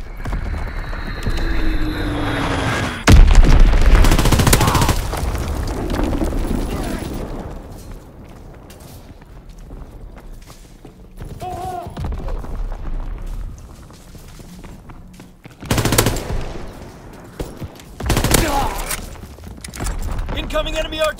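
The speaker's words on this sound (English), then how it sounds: "Enemy bomb incoming! Get to cover!" Artillery bombardment and gunfire in the World War II shooter game Call of Duty: WWII, with heavy booming blasts and bursts of shots under loud voices and in-game shouting, and quieter stretches between.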